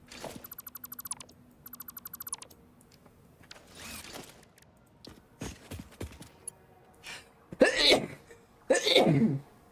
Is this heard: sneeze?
yes